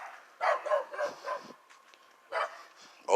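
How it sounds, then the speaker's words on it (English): A dog barks in two short clusters of sharp, moderately near barks, with a quiet pause between them and a final bark starting at the end. "What is he barking at?"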